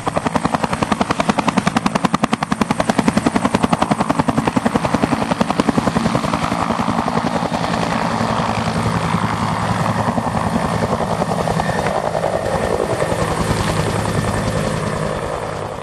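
A helicopter flies over the Antarctic ice with a steady rotor chop, loud and close at first, then thinning gradually as it pulls away.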